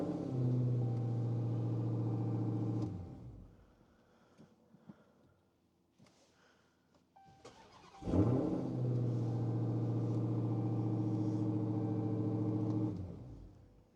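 A car engine is cranked from a portable jump pack and catches, a loud steady idling rumble that cuts off after a few seconds, then a short quiet gap with faint clicks before the engine fires up again and idles evenly.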